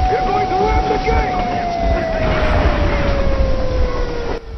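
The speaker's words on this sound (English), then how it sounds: "So we're on the train." In the Metro Exodus video game, a train rolls along the track with a loud, steady rumbling clatter and a drawn-out, slowly falling whine, which cuts off near the end.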